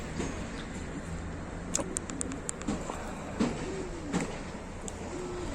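Soft cooing of a courting male pigeon repeats in low, rolling phrases against a steady background hum, with a few faint clicks and ticks scattered through.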